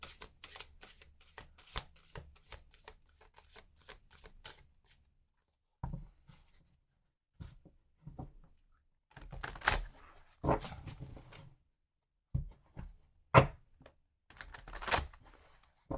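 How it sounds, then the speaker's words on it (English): Tarot cards are shuffled by hand at close range in bursts of crisp riffling and soft slaps, separated by quiet pauses and growing louder toward the end, with no talking. "I do apologize if the shuffling is loud."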